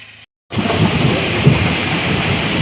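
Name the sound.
heavy rain with thunder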